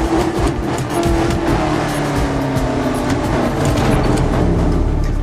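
A car drives in the Medal of Honor Warfighter video game, its engine roaring loudly and steadily throughout with a sustained, revving hum.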